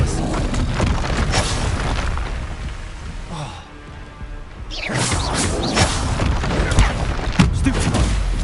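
An Expelliarmus spell cast in the video game Hogwarts Legacy: loud booming, crashing blasts with debris-like crackle, a brief lull, then another burst of impacts, with no speech.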